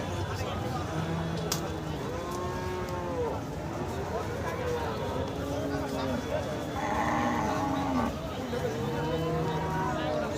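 A bull at a cattle market lowing in repeated drawn-out moos, close and loud, while people talk and bargain nearby throughout.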